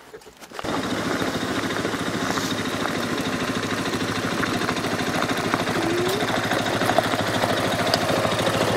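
A quad bike engine runs steadily and close by after a brief quiet start, a continuous mid-pitched drone with a faint whine, no talking over it.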